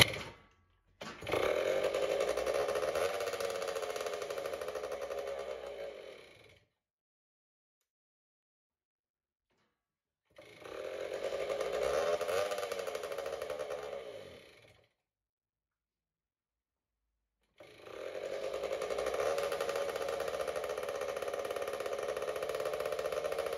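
A Suzuki 80cc motorcycle engine, started without a kickstart, runs in three separate stretches of steady buzzing idle, each lasting several seconds, with silent pauses between them and a sharp click at the start.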